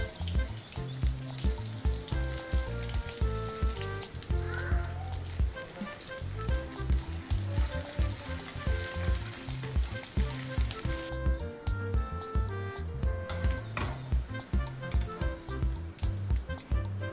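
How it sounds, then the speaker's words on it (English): Sliced onion, curry leaves, cashews and raisins sizzle and crackle steadily in hot ghee, close and continuous, under background music. "To some hot ghee, fry some sliced onion, curry leaves, cashews and raisins."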